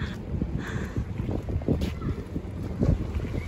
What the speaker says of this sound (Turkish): Bayağı rüzgar çıkmış yalnız.